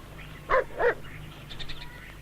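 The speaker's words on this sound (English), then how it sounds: "All of us with dogs can recognize a range of different barks that are used consistently in different situations" A dog gives two quick, close barks in a row, followed by a few faint, softer yips against a quiet background hum.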